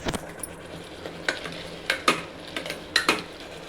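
Kidney beans are stirred into fried masala in a pan for rajma curry: repeated metal spoon scrapes and clinks against the pan over a faint sizzle, close and rhythmic, no voices.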